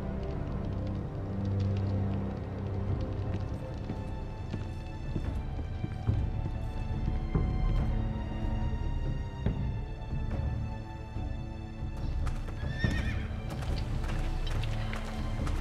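Hooves clop steadily on hard ground in a Game of Thrones video game, a continuous close rhythmic trot layered over a low ambient score, with faint clattering and a brief whinny-like rise near the end.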